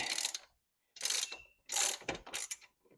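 A hand wrench works a spinning bolt on a Vulcan 750 motorcycle engine, giving four quick bursts of close, sharp ratcheting clicks separated by brief pauses, with no talk.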